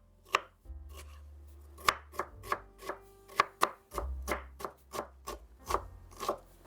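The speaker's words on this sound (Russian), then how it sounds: "средними кусочками режу лук" A knife chops an onion into medium pieces on a cutting board, about a dozen crisp, close knocks at an uneven pace, with no voices.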